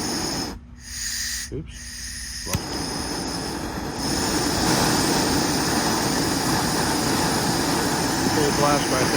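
A Harbor Freight propane torch roars at full blast in a steady, loud broadband rush with a fan running nearby, after brief dips as the gas is opened up; a voice briefly speaks over it.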